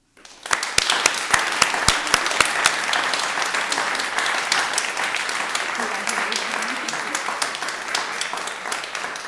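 Applause for award winners at a writing awards ceremony breaks out suddenly and carries on as a steady wash of many hands clapping, with some talk mixed in.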